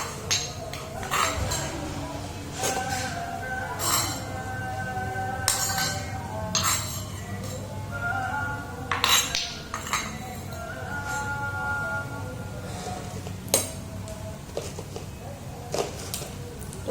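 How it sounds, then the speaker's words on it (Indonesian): Bougainvillea flowers pounded in a stone mortar (cobek) for a school acid-base chemistry practical, giving irregular knocks and clinks of stone against stone, close and moderately loud, with faint background voices. "Masukkan bunga bougainville ke dalam cobek. Tumbuk hingga halus."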